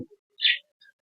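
A budgerigar newly brought home and kept with clay-pot nest boxes gives one short, bright chirp in near silence, followed by a few faint, brief twitters.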